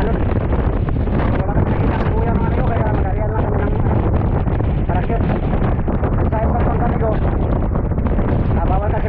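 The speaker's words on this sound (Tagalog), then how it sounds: "napapansin nyo malakas ang hangin" Strong wind at sea roars steadily across the microphone, a constant loud rushing blast with a voice talking underneath.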